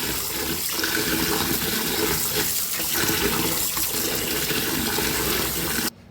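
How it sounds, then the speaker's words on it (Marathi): Water gushes loudly and steadily from a tap as rice and lentils are rubbed and washed, with faint stirring and rubbing underneath, then cuts off abruptly at the very end. "तर नळाला स्वच्छ धुवून घेऊया तांदूळ सगळी डाळ"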